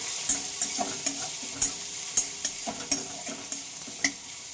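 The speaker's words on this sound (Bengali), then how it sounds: "তো চলো পেঁয়াজগুলোকে এখন আমি একটু ভেজে নেবো" Onions fry in a pan with a soft continuous sizzle, punctuated by about a dozen evenly spaced scraping strokes of a spatula stirring them, close and quiet.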